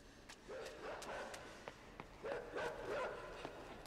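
A dog barks and yips in the video game Inside, chasing the player, in a few short bursts of moderate loudness, with some quiet background game sound.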